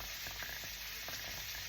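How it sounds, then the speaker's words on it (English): Pork caramel soup with oyster sauce and water bubbles and hisses steadily in a pot, a faint, even simmering texture with no talk. "The soup is boiling now, the ingredients."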